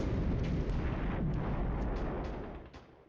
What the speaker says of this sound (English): that's enemy artillery fire at my tanks